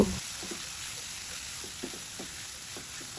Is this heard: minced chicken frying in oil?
yes